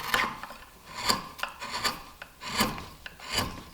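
A sharpened curved chisel, honed on a Tormek, pares through wood in repeated rasping strokes, about five firm cuts with short pauses between them, close and clear with no talking.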